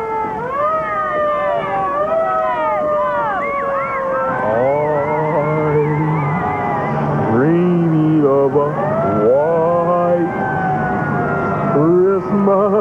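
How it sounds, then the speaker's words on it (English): A very loud siren on a ladder truck in a Thanksgiving parade in Detroit wails in repeated rising and falling sweeps, close and dominant, with crowd noise underneath. "a pickup truck, a 25-foot ladder truck, and a very loud siren"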